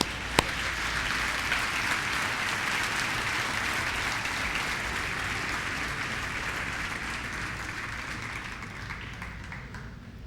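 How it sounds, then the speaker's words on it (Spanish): A church congregation claps at a morning service, sustained loud applause that fills the whole stretch, a thick even roar of many hands, with one sharp clap standing out near the start. "dale un aplauso al Señor esta mañana"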